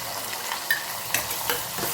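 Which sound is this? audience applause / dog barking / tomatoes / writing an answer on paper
tomatoes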